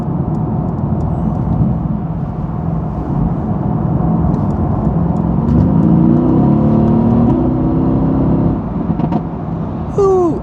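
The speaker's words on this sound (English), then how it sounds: "I'm gonna get around this truck." A car accelerating to pass a truck on the road: a loud, close engine drone with a rising whine as it speeds up, steady rumbling road noise throughout.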